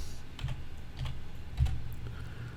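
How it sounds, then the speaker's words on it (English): Quick, light keystrokes on a computer keyboard as a search entry is typed, a handful of soft clicks in uneven rhythm close by, with no talk. "So now I'm going to start typing in the rest of it."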